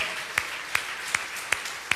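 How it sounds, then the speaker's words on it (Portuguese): Five crisp hand claps at a steady, evenly spaced beat during a church service, faint and sharp against a quiet background with no talking. "Vamos aplaudir bem forte ao nosso Senhor nessa hora"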